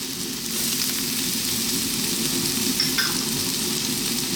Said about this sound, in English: as you can hear, this is on absolute full blast